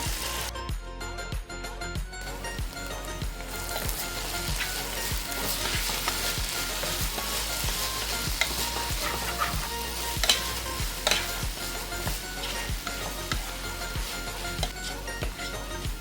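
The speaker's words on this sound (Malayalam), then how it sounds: "നമ്മുടെ നേരത്തെ റെഡിയാക്കി വെച്ചിരിക്കുന്ന ഈ മാങ്ങയുടെ കൂട്ടുണ്ടല്ലോ അങ്ങോട്ട് ഇട്ട് കൊടുക്കാം" A raw mango mixture for chammanthi podi fries in hot coconut oil in a wide pan, with steady sizzling and repeated scraping of a spoon stirring it close up.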